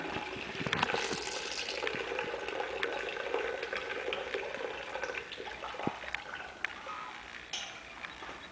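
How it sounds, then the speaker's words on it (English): Water sloshes and drips steadily as a wet grain bag is lifted out of brewing water for pumpkin ale, with trickling and splashing fading over several seconds; no talking. "I'm going to go ahead and pull my grain bag out of here."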